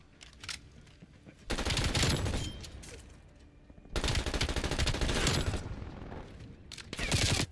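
Several enemy sentry turrets in Black Ops Cold War open fire in long, loud automatic bursts that pause and resume, over quieter game ambience, with no speech.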